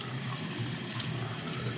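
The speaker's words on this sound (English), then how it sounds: "So you can see the water flowing through the valve and into the tun dish." Water runs steadily through a cylinder relief valve into a tundish on a Megaflo unvented hot water cylinder, making a continuous close rushing and splashing flow with no pauses.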